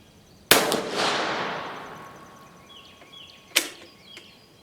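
Dutch Beaumont rifle firing on a range: two sharp gunshots, the first loud and close with a long ringing decay, the second a few seconds later, with no talking.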